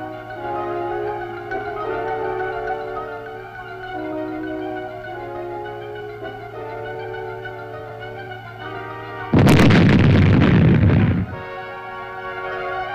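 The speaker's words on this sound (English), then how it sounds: "these mines were destroyed by demolition experts using charges of plastic" Mines found during a Vietnam War armored cavalry sweep are destroyed with plastic explosive charges: a single loud, roaring blast of about two seconds erupts late in the clip over a steady musical background.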